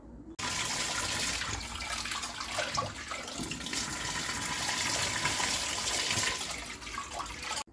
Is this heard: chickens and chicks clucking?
no